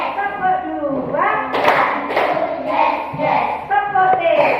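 In an Indonesian first-grade classroom, a group of young children claps in a counting rhythm game. Several crisp collective claps land at intervals beneath and between lively chanted voices.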